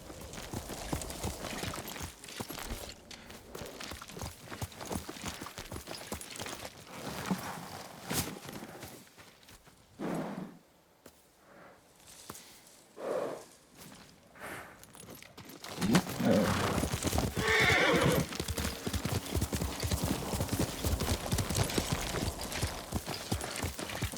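Horse hooves clip-clop steadily in the Ghost of Tsushima video game, with a brief quieter stretch before the hoofbeats return louder and busier; there is no clear whinny.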